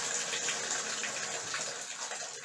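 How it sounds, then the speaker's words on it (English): Water runs from the tap into a bathtub to fill a couple of inches for soaking incubator parts, a steady, continuous gushing rush throughout with no talking. "I'm going to go ahead and run a couple inches of water in the bottom of the tub"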